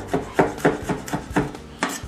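A knife thinly slicing peeled garlic cloves on a board makes a quick run of about eight crisp, evenly spaced chops, close and fairly loud.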